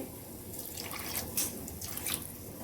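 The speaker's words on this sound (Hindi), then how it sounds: "अब इसमें 1/4 कप पानी ऐड करेंगे" Water poured from a cup into a cooking masala for a dhaba-style methi malai matar curry, a steady close splashing trickle lasting a few seconds with no talk.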